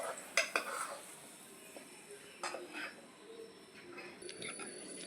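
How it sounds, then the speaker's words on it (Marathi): A spoon stirs a curry-leaf tempering into fresh coconut chutney in a bowl, giving soft, faint clinks and scrapes against the dish, with a few sharper taps, under a quiet voice. "आता हे मिक्स करून घेते छान"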